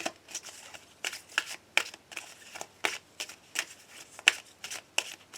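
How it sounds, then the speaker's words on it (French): Oracle cards are shuffled for a reading, giving a series of crisp, close riffling bursts in an uneven rhythm, quiet and alone without speech. "je vais terminer mon tirage avec le petit oracle de Steph"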